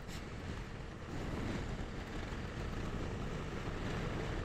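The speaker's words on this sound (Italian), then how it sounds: "finalmente un po' di mare." Sea waves wash steadily along the Gargano coast in Italy, a dense, continuous surf rush mixed with heavy wind buffeting on the microphone, with no voices.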